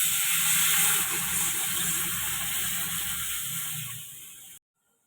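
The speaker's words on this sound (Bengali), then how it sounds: "আমি জল দিয়ে দিব।" Water is poured into a pan of frying spice paste of onion, turmeric and sugar for a katla fish curry, giving a loud, steady hiss and sizzle that fades over a few seconds and then stops abruptly.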